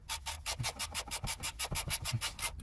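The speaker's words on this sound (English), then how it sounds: "So first tighten it by hand and then start going at it with the ratchet." A ratchet tightening the oil drain plug on a BMW with an M54 engine, a quiet steady series of rapid clicking strokes, about a dozen evenly repeated rasps.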